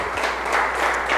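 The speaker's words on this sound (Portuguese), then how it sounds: "Dá uma forte salva de palmas para Jesus" A church congregation applauds, a dense, steady wash of many hands clapping together at close range, filling the whole moment without a break.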